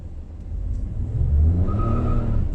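A 2020 Proton X50 flagship accelerates hard with wheel spin, its engine note swelling from a low hum into a rising, steady roar that holds through to the end.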